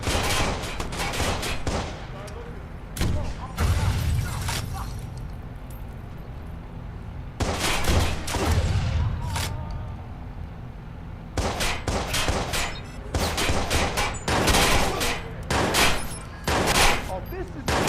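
Repeated bursts of gunfire in the video game Watch Dogs, loud rapid volleys in several clusters separated by brief lulls, with some talk mixed in.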